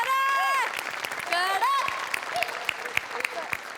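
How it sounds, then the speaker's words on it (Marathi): A studio audience at a comedy show bursts into applause, a crisp clatter of many hands that follows voices at the start and tapers off, with scattered sharp claps trailing at the end. "बनेसाठी एकदा टाळ्या"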